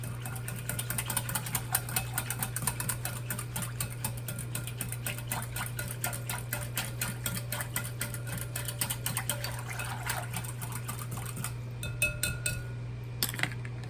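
A spoon stirs chicken and dressing in a pot, making a rapid, steady run of clinks and scrapes against the pot over a constant low hum, close by and fairly faint.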